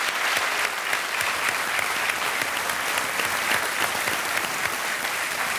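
Studio audience applause on the set of the Indian quiz show Kaun Banega Crorepati, season 10, steady dense clapping throughout at an even, loud level with no break and no talk over it.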